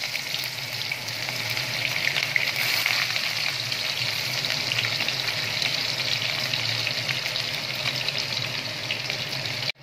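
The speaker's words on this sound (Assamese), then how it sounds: "এতিয়া মই মাছৰ জোল বনাম এয়া পিঁয়াজ আৰু জলকীয়াখিনি দি লৈছোঁ" Onion and chilli fry in hot oil for a fish curry, a steady, close, loud sizzle and crackle running unbroken for nearly ten seconds before cutting off abruptly.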